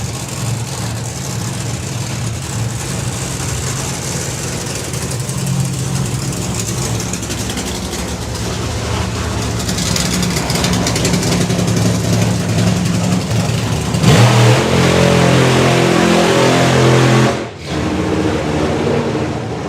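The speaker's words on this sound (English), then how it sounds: "You can hear the revs a little bit high after the burnout again" A powerful drag racing car engine holds high, loud revs continuously after a burnout at Santa Pod Raceway, with a sharp shift in tone near the end and a brief dip before it resumes.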